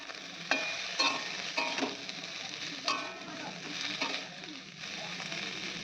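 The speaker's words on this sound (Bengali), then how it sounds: "তো ওদিকে মা ব্রোকলিটা ভাজছে" Broccoli frying and sizzling in a pan with ginger, garlic and dried red chillies, a steady hiss broken by regular stirring scrapes and clanks of a spoon against the pan.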